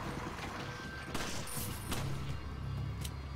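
Gunfire in the video game Resident Evil 5, several sharp shots crack out in a quick, irregular sequence amid game ambience and faint rustling, moderately loud with no talk.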